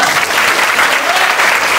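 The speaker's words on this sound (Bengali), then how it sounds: "অ্যাচিভারদের জন্য হাততালি হবে না?" An audience claps loudly and continuously at a business-building seminar, a dense, even wash of applause from many hands that fills the whole moment.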